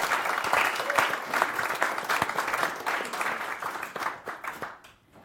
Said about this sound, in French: Merci de l'applaudir chaleureusement.